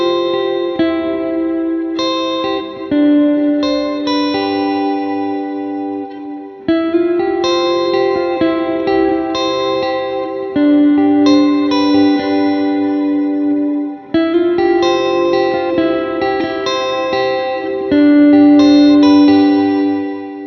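Electric guitar through a Strymon Big Sky MX reverb pedal plays sustained chords and picked notes drenched in lush reverb and shimmering echo, loud and continuous with brief breaks between phrases.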